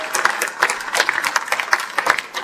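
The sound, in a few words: audience applause for the caterer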